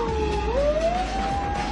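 A Japanese police car's siren wails in a rising and falling sweep during a pursuit through narrow streets, loud and continuous over a low rumble of engine and road noise.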